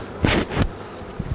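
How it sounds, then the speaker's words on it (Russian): Bees from an opened hive in a troubled bee colony buzz in two short, loud bursts close to the listener, followed by quieter rustling. "Там уже много пчел."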